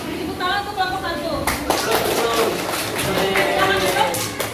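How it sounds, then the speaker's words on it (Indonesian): Classroom applause for a student group in a mathematics lesson, a burst of children clapping that starts partway through and continues, following a teacher's voice. "tepuk tangan untuk kelompok 1"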